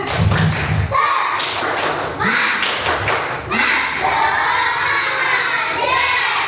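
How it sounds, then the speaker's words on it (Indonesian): Children perform a rhythmic classroom clap routine, with loud thumping claps and patterned taps in short bursts, mixed with shouting voices. "Oke, tepuk semangat."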